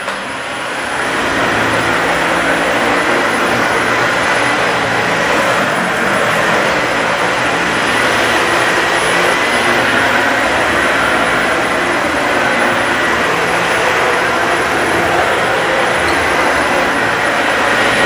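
A Dyson Slim Ball upright vacuum cleaner runs on carpet with a loud, steady motor roar and whine that holds unbroken for the whole stretch.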